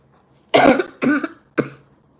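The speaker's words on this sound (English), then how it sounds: "And I know why I'm coughing." Three sharp, separate coughs from a nearby adult in a quiet indoor room, the first the loudest and the last the shortest.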